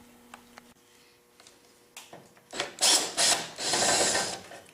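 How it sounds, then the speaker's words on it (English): Power drill whirring as it backs screws out of an RV furnace blower assembly, a few light clicks and clanks, then loud bursts of motor whine in short runs up close. "Got a couple screws to get out here and try to get this whole blower assembly off."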